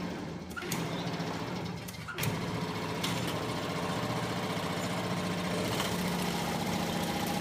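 A honey uncapping machine strips wax from comb frames, a steady mechanical engine-like drone with a few clanks, continuous and fairly loud.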